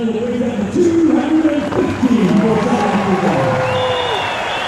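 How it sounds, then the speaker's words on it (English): Cheering and applause from a cricket crowd around the ground at a South Africa versus Sri Lanka one-day international, a loud, sustained wash of many voices with rising whoops. "And a cheer from around the ground."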